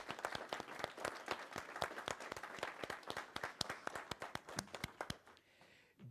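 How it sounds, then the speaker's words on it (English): Sparse applause at a school board meeting, with a small number of distinct hand claps in a quiet room, slightly irregular and fairly faint, trailing off near the end. "let us give our board, the superintendent, and our principal, Mrs. Valerie Bogan, a round of applause."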